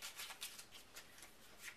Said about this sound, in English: So now take the queens and shuffle those up,